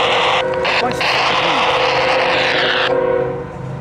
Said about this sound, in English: The big long train.